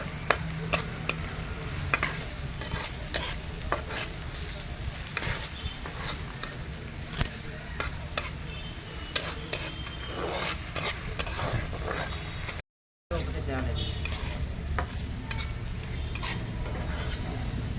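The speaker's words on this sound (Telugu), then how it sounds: "కొంచెం ఉల్లిపాయలు త్వరగా ఫ్రై అవ్వడానికి కొంచెం ఉప్పు యాడ్ చేసుకోండి" Onions with a pinch of salt frying in a pan, a continuous sizzle under frequent clinking, scraping stirs, close and steady, with a brief gap before frying carries on.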